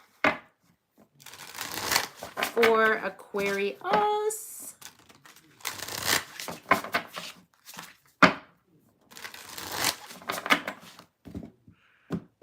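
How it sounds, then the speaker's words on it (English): A deck of tarot cards is shuffled in several short riffling bursts, crisp and close, broken by pauses while someone talks in between and over the handling. "Last deck to shuffle"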